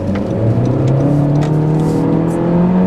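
A 2016 Honda Civic Coupe engine revs hard and climbs in pitch as it accelerates, loud and close with a steady rising drone.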